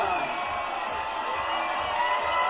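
A live crowd at an Ironman race finish screams and cheers in a sustained, dense roar, loud and continuous throughout.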